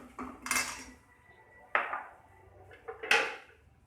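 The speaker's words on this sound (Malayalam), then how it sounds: "ഇതിൽ നിന്ന് കുറച്ച് ഭാഗം ഞാൻ ഇത് ഒരു പാത്രത്തിലേക്ക് മാറ്റി കൊടുക്കാൻ കേട്ടോ." Fried spices for a pineapple buttermilk curry are spooned from a pan into a bowl. There are three distinct metallic clinks and scrapes of spoon on cookware, separated by quiet gaps.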